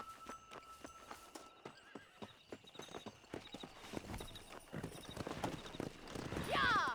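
Rapid clip-clopping hooves of a galloping horse in Red Dead Redemption, steady close beats building in intensity, with a whinny and some voices mixed in.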